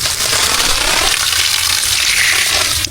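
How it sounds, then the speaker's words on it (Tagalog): Heavy rain pours down on a farm, a loud continuous rushing of water and dense patter filling the whole stretch before cutting off abruptly. "Gabig buhos sa ulan. Kusugin tubig mga ka-angel."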